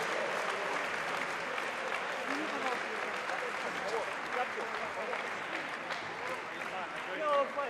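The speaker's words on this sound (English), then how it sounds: "both boxers deserve one hell of a round of applause" A crowd at a boxing match applauds the two boxers, giving a broad sustained roar of clapping with cheering voices mixed in throughout.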